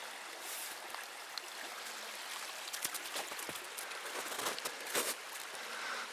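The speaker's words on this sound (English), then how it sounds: "There's where the creek comes down and through." Creek water at Bird Creek Falls in Alaska runs over rocks in a steady broadband rush, with brief splashy bursts and close trickles breaking through now and then, and no talking.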